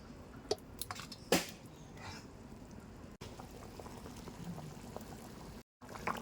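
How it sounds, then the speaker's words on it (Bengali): Chicken curry gravy made with ground spice paste simmers in a pot, giving a faint, soft bubbling with occasional small pops and a couple of brief gaps, no voices. "ঝোলটা ফুটতে থাকুক"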